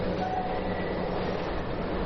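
The Alishan Forest Railway narrow-gauge mountain train in Taiwan rumbles steadily and loudly with continuous rail noise, a dense unbroken roar of wheels and carriages, no voices.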